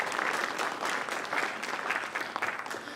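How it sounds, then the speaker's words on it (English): Applause from the crowd at an esports award ceremony, dense even clapping that is moderately distant and fairly soft, continuing steadily without talk. "we could clap for that"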